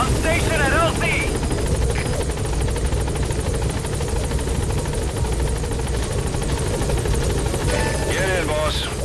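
A support helicopter arrives at a landing zone in the video game Metal Gear Solid V: The Phantom Pain, its rotor drone loud and steady throughout, with radio voices talking over it.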